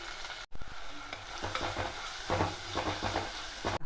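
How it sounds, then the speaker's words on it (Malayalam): Crushed ginger, green chilli, curry leaves and onion are sautéed in a pan for a crab chilli curry, giving a close, steady sizzle broken by scraping stirs and a brief clank. "ചതച്ച ഇഞ്ചി, പച്ചമുളക്, കറിവേപ്പിലയും വലിയ ഉള്ളിയ ഇതൊന്ന് വഴറ്റിയെടുക്കാം."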